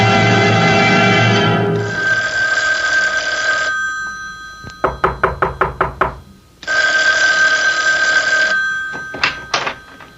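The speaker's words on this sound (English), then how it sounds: "Isn't that your phone I hear ringing?" A telephone bell rings in loud repeated bursts, then a series of sharp knocks on a door, followed by more ringing, in a radio drama scene.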